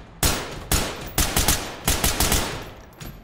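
Gunfire from the tactical shooter Ready or Not with the Advanced Armory mod, a run of loud, sharp shots in short bursts of two to four, evenly spaced over a few seconds with no talking.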